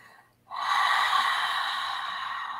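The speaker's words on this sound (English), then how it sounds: "Let us take another deep in breath in and breathe out" A single deep breath let out through an open mouth during a guided breathing exercise, a long steady airy exhale that starts abruptly and carries on evenly, close and fairly loud with no talking.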